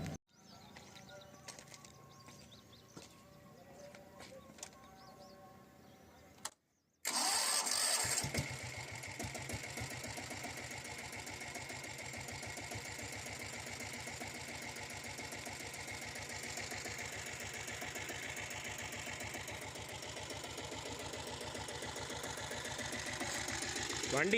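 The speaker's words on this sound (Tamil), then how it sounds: "வாங்க இப்போ வண்டி ஸ்டார்ட் பண்ணி பார்க்கலாம் வாங்க." A 7.5 HP self-start diesel Royal Enfield Bullet motorcycle engine starts up after a brief silence and settles into a steady, loud idle with a fast mechanical clatter running throughout.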